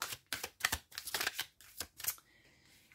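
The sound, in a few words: tarot cards being shuffled for a reading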